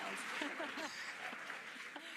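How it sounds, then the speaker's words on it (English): Crowd cheering and clapping at a SpaceX NASA Crew-10 launch, a broad wash of applause and shouts with voices talking over it. "the crowd is going wild"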